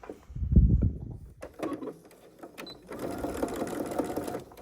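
A sewing machine stitches the seam of a fabric hair scrunchie in short runs, its needle clattering rapidly and close, with a couple of quieter gaps and handling clicks between bursts.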